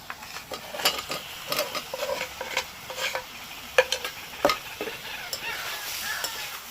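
Potatoes tossed and stirred with spices and a little sugar and kasuri methi in a pan for crispy potato fry, giving scattered scraping clicks and soft sizzling with no voices.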